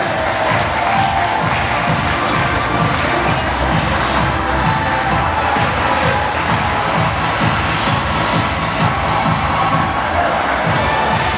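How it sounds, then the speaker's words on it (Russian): An audience at a freestyle wrestling awards ceremony applauds and cheers steadily, a continuous crowd roar of clapping and shouts lasting throughout without speech on top. "Под ваши аплодисменты, дорогие друзья."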